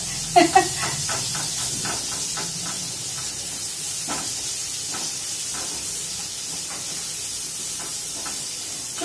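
Chopped onion sizzling in hot oil in a home kitchen, a steady soft hiss carrying on throughout, with a few light clicks and knocks near the start and faint scattered taps later.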